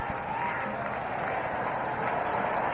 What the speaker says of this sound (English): Crowd is screaming very loud.